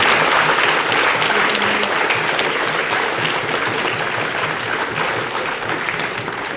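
An audience bursts into loud, sustained applause after a team's score is announced at a Bait Baazi poetry contest in Aurangabad, dense continuous clapping that holds steady and eases slightly toward the end.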